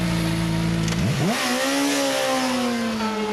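Steady engine drone of a Suzuki 750 racing motorcycle at a WERA six-hour endurance race at Roebling Road, rising in pitch as it accelerates, loud and continuous with wind noise over it.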